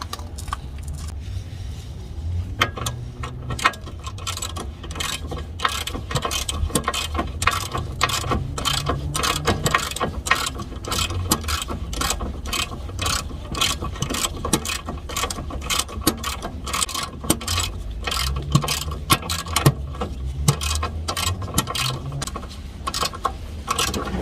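A ratchet tightens the outer tie rod on a Mk4 VW Jetta GLI, rapid close clicking bursts of the pawl repeating in quick strokes throughout, loud and without talk.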